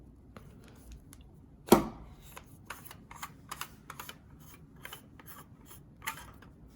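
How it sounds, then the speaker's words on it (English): Bottom cap being unscrewed from an Obi-Wan Kenobi Episode 1 legacy lightsaber, heard as a scraping rasp and a sharp click, then a string of small quiet clicks and scrapes, close by with no talk. "to change the batteries on the Obi-Wan saber, you have to unscrew the bottom cap"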